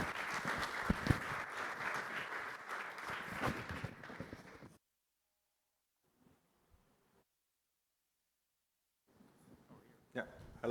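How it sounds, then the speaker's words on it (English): Audience applause for Justin at a startup conference, a loud broad burst of clapping for about five seconds that cuts off into near silence, with faint sounds and a voice returning at the end. "Please give Justin a warm round of applause."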